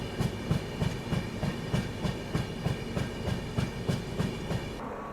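The Dibrugarh Rajdhani Express, hauled by a WAP5 locomotive, runs steadily with a regular clickety-clack of wheels over rail joints under a constant rumbling roar, heard from on board with no voices.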